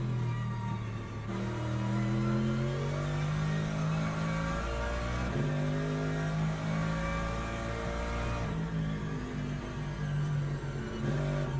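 Hypercar engine in the racing game Le Mans Ultimate at a wet Bahrain race, a loud sustained high-pitched whine that rises and falls through gear changes, close and continuous with no talk.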